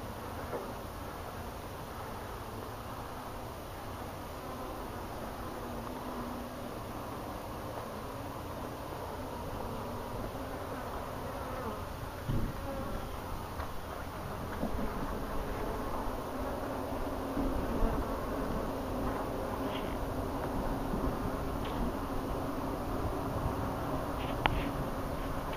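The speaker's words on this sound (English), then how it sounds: "This is the aggressiveness of the African bee." A swarm of aggressive African bees hums steadily around a large hive, a dense continuous buzz filling the space with a constant hiss, a few faint clicks and rustles near the end and no voices.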